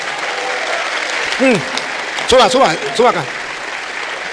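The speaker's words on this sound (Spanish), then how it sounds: "Fuerte, que se oigan los aplausos." Applause from a church audience welcoming a guest to the front, steady clapping under a voice speaking Spanish, with a few short tonal swoops on top.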